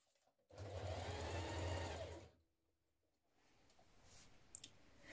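An electric sewing machine runs steadily for about two seconds, stitching underwear fabric with a twin needle, then stops, leaving faint clicks and handling noise; no one speaks.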